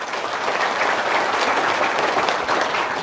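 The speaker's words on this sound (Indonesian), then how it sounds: "Tepuk tangan dulu dong." Sustained applause from a seated audience at a talk, dense steady clapping filling the room at a loud, even level for the whole stretch with no pauses.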